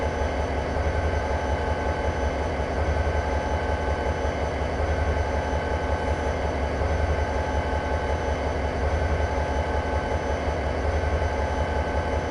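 A freight train on Cajon Pass in Train Simulator rolls toward a coasting stop, its engine a steady low drone with a constant rumble and no voices.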